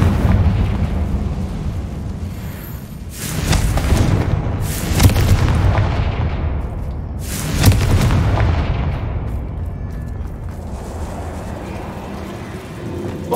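A Confringo spell blasts in Hogwarts Legacy, producing several loud booming explosions a couple of seconds apart, each with a rumbling tail over a steady low background.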